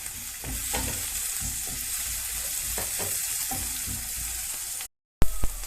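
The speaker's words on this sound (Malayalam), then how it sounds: "നമുക്കിതിലേക്ക് തക്കാളി ചേർത്ത് വഴറ്റാം." Chopped tomato sautés in a pan for a Kerala-style potato curry, giving a continuous close sizzle with repeated stirring scrapes and a brief dropout near the end.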